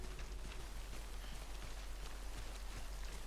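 Timefall rain in Death Stranding pours steadily, a dense, even hiss of drops striking the ground all around with a low rumble beneath and no voices.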